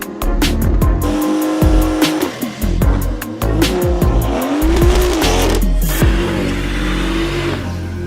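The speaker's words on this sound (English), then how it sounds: "go-karts just over there, just as I'm talking. So that's what that screeching you can hear is." Go-karts race around a karting circuit nearby, engines buzzing and rising through revs while tires repeatedly screech and squeal through corners, loud and continuous with sharp clicks and knocks between.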